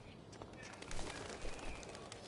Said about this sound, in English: One small flight for this bird, one giant leap backward for Chloe Price